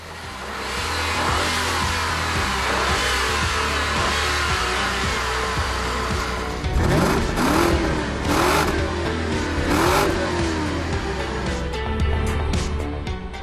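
A BMW 6 Series convertible with a 300-kilowatt eight-cylinder engine growls and revs, a steady idle giving way to several sharp rising throttle blips that swell loud and close.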